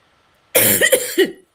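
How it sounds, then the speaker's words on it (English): A harsh cough bursts out close up, followed by a few quick rasping coughs, then silence. "I'm having a coughing attack"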